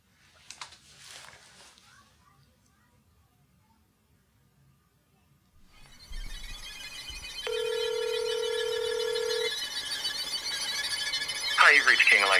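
A telephone call rings out through the handset at a recording studio in Austin, Texas: a steady electronic ring tone follows a quiet stretch and some handling noise, then a second ring begins.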